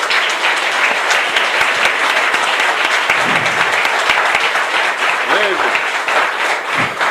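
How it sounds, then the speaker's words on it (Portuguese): A church congregation applauds in worship, a dense, loud, sustained wash of clapping from a large crowd throughout, with a few voices calling out underneath. "Aplauda o Senhor Jesus"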